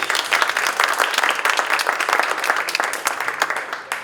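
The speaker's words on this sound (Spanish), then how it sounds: "Un fuerte aplauso, por favor." Sustained, loud applause from a panel-discussion audience, dense clapping from many hands continuing steadily for about four seconds before thinning slightly at the end.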